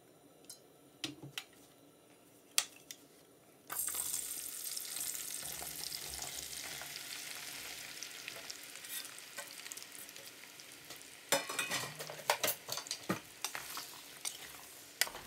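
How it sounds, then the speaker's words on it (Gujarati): Onions and curry base ingredients frying and being stirred in a pot, a steady close sizzle that jumps in loudness after a few quiet seconds, with scattered scraping ticks and clatters from stirring and no talk. "હું આ બધું નાખીશ સુફરિયામાં આપણે રાંધશું પક્કા આપણી ડુંગળી જરાક ટ્રાન્સપેરન્ટ થઈ જાય"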